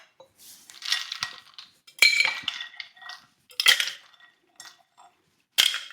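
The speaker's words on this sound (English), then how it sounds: "So, next step, martini shaker." A metal martini shaker with ice rattles and clinks in short bursts, several separate clanking rounds with pauses between them, close and crisp with no talking.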